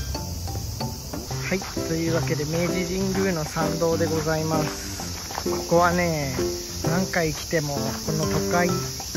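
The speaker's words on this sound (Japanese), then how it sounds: "朝はこうこのセミの鳴き声がね癒してくれたりとか" Cicadas droning steadily along the tree-lined approach to Meiji Jingu shrine in Tokyo, a constant high buzzing bed under someone talking throughout.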